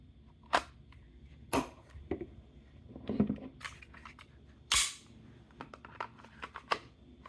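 Handgun, a Canik TP-9sfx or HK VP-9L, clicking in and out of a Kydex holster: several sharp separate snaps and clacks close by, with quieter handling rustle between.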